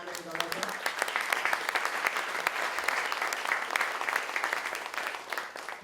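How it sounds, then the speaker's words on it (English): Sustained audience applause at a roundtable discussion on financial advisor regulations, dense steady clapping throughout, fairly close and continuous with no talk over it. "Can we have a round of applause for Mama and Gaurav?"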